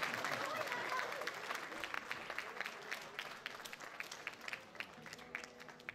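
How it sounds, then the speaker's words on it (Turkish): Audience applause at a Turkish art music anniversary concert, a continuous wash of clapping from the hall with a few sharper claps, slowly tapering. "Arkadakileri de alkışlayalım."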